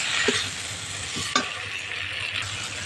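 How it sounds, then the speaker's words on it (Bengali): Fried potatoes being sautéed with spice paste for a fish jhal chorchori, giving a low steady sizzle broken by a few soft stirring scrapes, close and moderate, no talking. "ভেজে রাখা আলুগুলো আলু দিয়ে মশলার সঙ্গে খুব ভালো করে কষিয়ে নেব"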